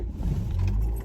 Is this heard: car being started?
yes